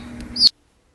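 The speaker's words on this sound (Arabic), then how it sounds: "This bird is a chick." A bird chick gives a single short, high chirp near the end of a brief stretch of faint background hum, then silence.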